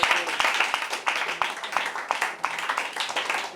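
An audience at an intraschool debate in Lagos, Nigeria, claps after a speech: dense, uneven hand claps in a steady burst throughout, fairly close and loud.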